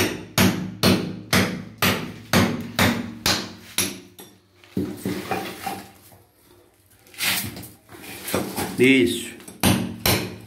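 A hammer breaks up bathroom floor tiles in a run of loud, regular, close blows. The pounding pauses midway while people talk, then resumes.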